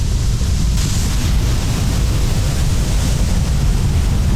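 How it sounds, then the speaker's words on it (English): A big waterfall on the Moose river roars as a continuous, loud, broadband rush of falling water, steady and unbroken throughout with no voices. "a big waterfall right there"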